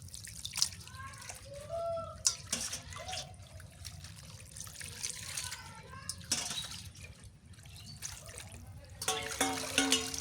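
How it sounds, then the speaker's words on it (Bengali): Water splashes and trickles into a cooking pot in a home kitchen, a steady watery pour lasting several seconds with voices talking over it. "হালকা পানি দিয়ে দিই"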